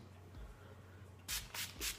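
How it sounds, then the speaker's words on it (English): Three short soft hissing sprays of sea salt spray misting hair in quick succession, close by, following a stretch of quiet room noise. "I'm gonna go ahead and just mist it with my sea salt spray."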